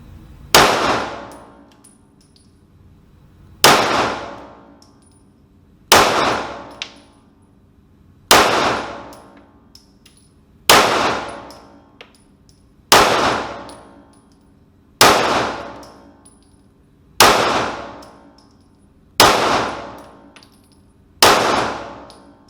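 A BRG9 Elite 9mm pistol fired at a target, nine sharp loud shots spaced evenly about two and a half seconds apart, each ringing out with a decaying echo, no voices.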